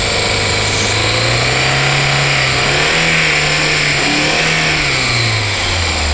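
A three-door 4x4 on new studded tyres strains up a snowy slope. Its mid-pitched engine revs hard and steadily, loud and close, with the pitch rising and falling as it fights for grip.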